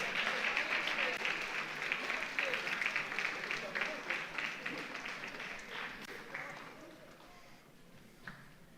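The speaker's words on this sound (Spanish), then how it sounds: "Dale un aplauso grande" A church congregation applauding during a sermon, a full room of clapping that is steady at first and then thins into scattered claps as it gradually dies away.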